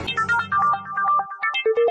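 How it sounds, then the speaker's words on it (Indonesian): A phone ringtone plays a bright, quick electronic melody of short tonal notes. It is loud and close, runs alone for about two seconds and ends abruptly. "aku terima telepon dulu"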